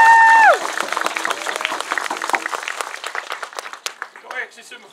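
An outdoor crowd applauds to welcome carver David Boxley at a totem pole dedication ceremony, the clapping rising as a sustained tone fades, then a steady patter that thins out toward the end.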